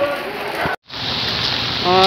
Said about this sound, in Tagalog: May ulan pa.